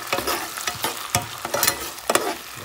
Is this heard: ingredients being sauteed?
yes